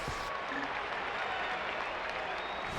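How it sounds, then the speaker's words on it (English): Polite applause from a dispirited Chicago baseball crowd at Rothstein Park, a steady patter of clapping spread across the stands with a general crowd murmur beneath, fairly distant and even throughout. "A polite round of applause by this already dispirited Chicago crowd here at Rothstein Park."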